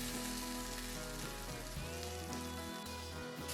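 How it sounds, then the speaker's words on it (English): Beef browning in a hot pan for a traditional stew gives a steady, close sizzle that carries without a break under a low hum, with no voices. "Cook the meat until it is nicely browned on all sides"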